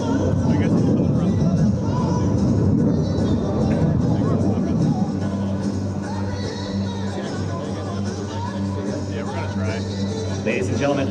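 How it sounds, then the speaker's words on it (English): F/A-18F Super Hornet jet flying an inverted low whisper pass at an air show, a broad roar that is loud at first then eases slightly, with crowd noise underneath and a person talking over it. "the Super Hornet inverted whisper pass"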